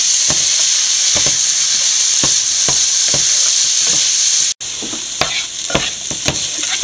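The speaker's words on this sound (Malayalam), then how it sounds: "നമ്മുടെ ചക്കക്കുരുവൊക്കെ നല്ലപോലെ വഴന്നിട്ടുണ്ട്" Jackfruit seeds stir-fried in a pan for a Kerala-style dry dish give off a steady, close sizzling hiss, broken by regular scraping stirs of a spatula against the pan.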